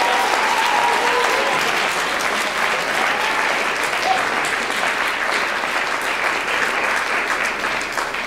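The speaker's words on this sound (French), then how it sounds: "Veuillez l'applaudir en petit tour de main" Loud, dense applause from a talent show audience, continuous clapping that holds strong for over eight seconds with crowd noise mixed in.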